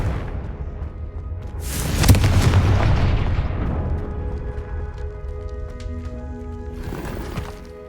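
A Confringo spell explodes in the Hogwarts Legacy video game, a loud broadband blast around two seconds in that fades into a long rumbling decay, with game ambience and another burst near the end.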